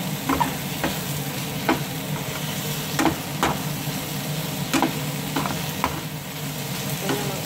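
Butter shrimps with garlic sauce sizzle steadily in a pan, broken by regular clattering stirs and scrapes every second or so, close and fairly loud.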